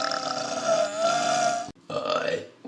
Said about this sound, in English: Burping. It might take a minute.